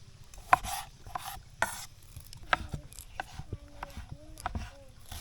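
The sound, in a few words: chopping tomatoes and other ingredients for coconut soup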